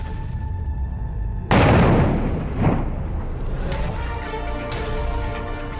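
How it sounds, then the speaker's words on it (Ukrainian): Detonated munitions explode during ordnance disposal: one sudden loud, deep blast followed by a rolling rumble and a second thump, then a long echoing tail across open ground. "После доклада командир подает команду «Взрыв». Нажимается кнопка «Взрыв»."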